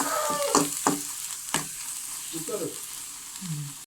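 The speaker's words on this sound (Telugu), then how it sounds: "రెండు నిమిషాలు ఫ్రై చేసుకోవాలి" Bheja (brain) fries in a pan, giving a soft continuous sizzle with a few clinks and scrapes of stirring, fairly quiet and close, with no voices.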